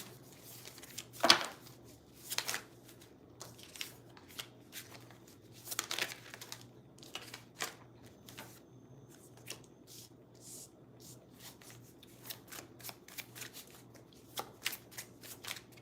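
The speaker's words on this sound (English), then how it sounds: "Let me pull out some cards" Tarot cards being shuffled and drawn from a deck, a series of soft riffling swishes and flicks up close, quiet and alone without talk.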